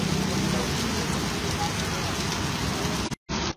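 Steady, dense rain pours at night in the Karelibaug area of Vadodara, a constant hiss that cuts out briefly near the end.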